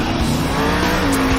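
The engine of the Max D monster truck roars at full throttle during a freestyle run at a Salt Lake City, Utah arena show, one loud sustained snarl that barely wavers.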